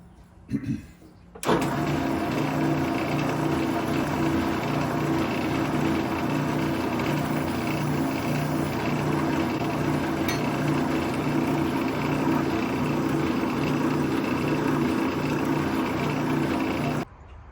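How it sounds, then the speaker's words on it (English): A power tool hones screw holes in a metal gate, running as a steady continuous drone with a strong low hum for about fifteen seconds after a brief start, fairly loud and close. "I'm going to hone the holes so that the screws will fit down in it."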